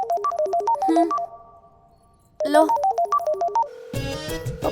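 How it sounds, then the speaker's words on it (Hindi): A phone's melodic electronic ringtone plays in loud repeating bursts, pauses, then rings again before a voice briefly speaks over the end. "फोन उठाइए।"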